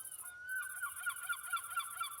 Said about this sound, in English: God, the birds are really going off.